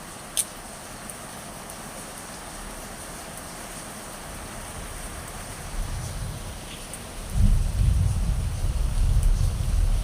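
Steady, moderate rain hisses on a rainy day, and a deep, distant rumble of thunder swells in the last few seconds. No voices.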